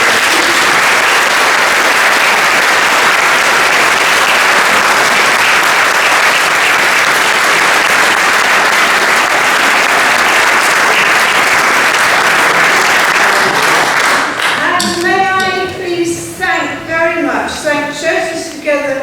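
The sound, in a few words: audience applause at an election hustings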